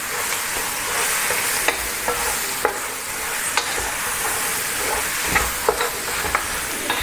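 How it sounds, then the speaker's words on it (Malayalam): Marinated country chicken frying in a pan, a continuous hissing sizzle broken by scattered scrapes and clacks of stirring, close and alone. "ചിക്കൻ ആഡ് ചെയ്തിട്ട് നന്നായിട്ട് തന്നെ ഒന്ന് യോജിപ്പിക്കാം"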